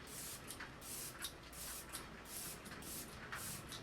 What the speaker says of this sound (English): I'm going to start with the Adaptogen Soothe and Hydrate Activated Mist from Youth for People though, because I am obsessed with this.